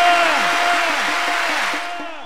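Football fans of River packed inside a festival tent shout and cheer in a dense, continuous crowd roar with piercing whistles, steady and loud before easing slightly at the end.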